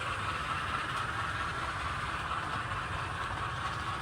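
MTH Big Boy model train running laps at full speed around the track with the Clinchfield Challenger nearby, a steady continuous rolling rumble and whir at close range, unbroken for the whole stretch with no talk.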